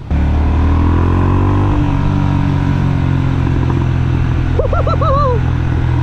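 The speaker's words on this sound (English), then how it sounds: "Hearing this thing purr on idle and feeling the vibrations as you twist the throttle" A Honda CB350RS motorcycle engine rumbles steadily at idle, loud and close, with a brief rising rev near the end.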